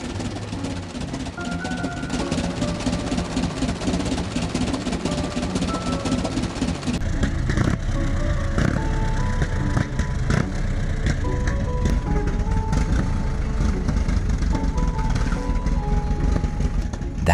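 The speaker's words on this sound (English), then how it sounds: "Have you ever heard the intake roar of a 4-cylinder engine block packed with a displacement of up to" The 1909 Blitzen Benz, a 21.5-liter four-cylinder engine, roars loud and steady at close range, a dense continuous rumble with rapid firing pulses and no talk.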